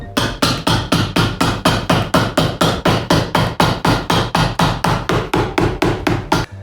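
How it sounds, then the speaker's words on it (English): Steady, rapid hammer blows, about three per second, ringing sharply and evenly close by with no voices, flattening stitches inside a leather riding boot. "Hammer to hammer down our stitches as normal"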